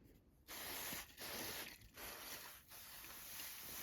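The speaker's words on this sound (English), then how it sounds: "I wanted to try the spray starch to see if I put a little spray starch, will the marks go away?" Spray starch sprayed from a pump bottle onto quilting fabric for a pillow cover, a close series of four broad hissing bursts, each about half a second to a second long, with brief pauses between them.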